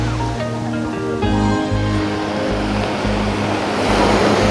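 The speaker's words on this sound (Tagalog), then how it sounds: "Ang lakas ng alon." Loud, rushing water churns and surges close by over a steady low engine-like hum, the turbulence building toward the end.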